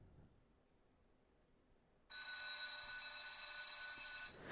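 After a quiet pause, a bright electronic bell starts ringing continuously, a sharp sustained ring lasting a couple of seconds before cutting off.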